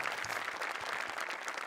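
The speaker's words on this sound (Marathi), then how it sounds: "जोरदार टाळ्या झाल्या पाहिजेत" Audience applause at a Marathi comedy show awards moment, a dense, steady wash of clapping filling the short stretch at even loudness with no speech over it.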